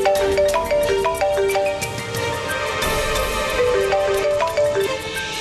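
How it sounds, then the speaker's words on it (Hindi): A mobile phone rings during a call, a bright repeating melodic ringtone playing loud and clear on its own for several seconds. "प्लीज ईशानी, इस बार फोन उठा लेना।"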